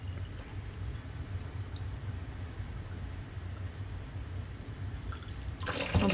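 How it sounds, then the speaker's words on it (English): Water runs steadily from a tap into a rabbit's plastic water bottle, a low continuous rushing fill heard close and fairly quiet, with a brighter splash near the end. "we're just filling this one up."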